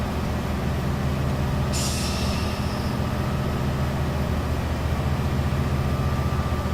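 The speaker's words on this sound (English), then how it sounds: "I'm just going to put the local brake on until I can put the power down" Class 67 diesel locomotive applying its local air brake: a sudden sharp hiss bursts in and tapers away over a steady, loud engine drone and rumble.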